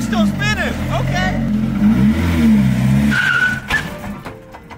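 Tires of a Chevrolet S10 pickup spin and squeal hard under throttle during a wheelie attempt, the engine revving loudly throughout with a sustained screech, while a voice talks over it.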